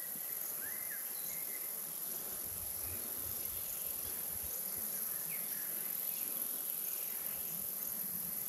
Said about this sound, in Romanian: Zici că sunt cicade.